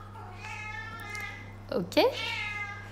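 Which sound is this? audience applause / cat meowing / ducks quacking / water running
cat meowing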